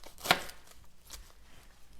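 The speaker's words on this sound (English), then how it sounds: "I washed up some of my lettuce, the crisp head lettuce here, and I'm just gonna chop this" A knife chops through a fresh head of crisp head lettuce: one sharp, crunchy cut close up, then a fainter second stroke a moment later, with no talking.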